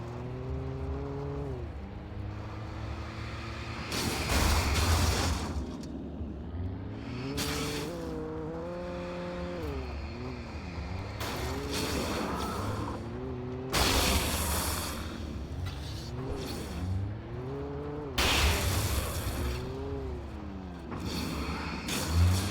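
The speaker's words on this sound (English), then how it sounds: "I can drive a car." Car driven in the Alan Wake video game, engine droning and shifting pitch throughout with repeated loud bursts of tire squeal and skidding at intervals, no voices.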